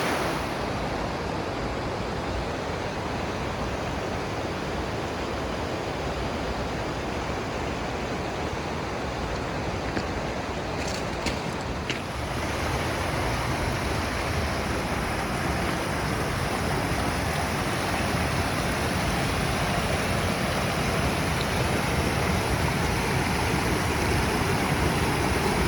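Water rushing steadily in a mountain stream on a Mount Whitney day hike trail, a dense continuous broadband wash close by, with a brief faint tapping midway and no talk.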